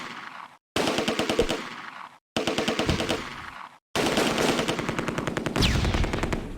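Rapid bursts of machine-gun fire crackle from the World War II strategy game Close Combat: A Bridge Too Far, coming in three sustained rattling volleys split by short silent gaps.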